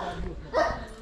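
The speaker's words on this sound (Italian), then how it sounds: "Abbiamo un cane che ci vuole aggredire" A dog yaps and barks aggressively near a black Swiss-registered camper, a short sharp outburst rising over background noise.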